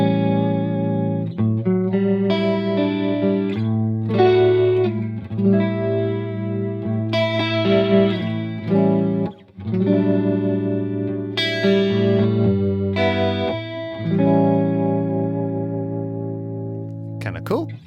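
An electric guitar run through an iOS amp simulator with an Eventide rotary speaker effect and a dumble-style tone plays sustained chords and single notes with a swirling, warbling shimmer, loud and alone.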